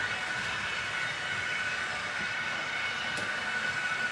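A train in Sittard runs steadily with a whining, rising tone over a continuous rumbling hum of wheels and motor, heard moderately near and without voices.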